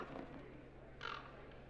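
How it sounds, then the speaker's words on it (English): A bird calls in the fantasy role-playing game Dragon Age: Inquisition, giving one short harsh crow-like caw midway through, over a faint ambient game background with no talk. "That is an ugly looking bird."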